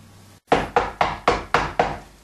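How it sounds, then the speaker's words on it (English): Six firm knocks on a wooden door in a Shakespearean stage setting, evenly spaced and close, sounding alone after a brief silence. "Hark! How they knock!"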